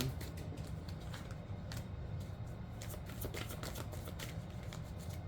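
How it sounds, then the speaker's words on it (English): Tarot cards are riffled and shuffled over and over in quick, crisp bursts of flicking and slapping, close up and quiet, with no talking. "Why you got me shuffling these cards all crazy?"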